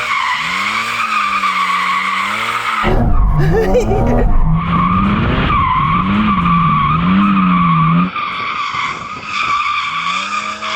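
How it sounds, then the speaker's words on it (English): A Porsche GT4 RS engine revs high and loud during a clutch kick, then its tires squeal and skid sideways in a long screech as the engine note wavers. A single word is spoken briefly near the end. "and it'll clutch kick it sideways like"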